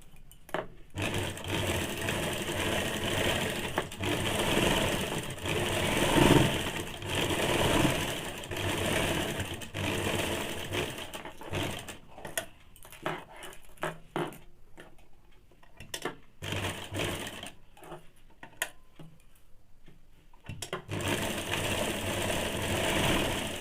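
A sewing machine stitches fabric for a two-piece Bombay cut blouse, its whirring motor and ticking mechanism running in long close bursts with brief pauses between runs.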